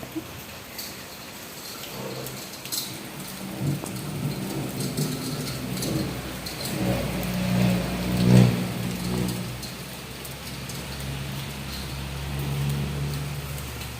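Steady rain falls with a soft, continuous hiss, joined by occasional low rumbles and a few louder swells near the middle.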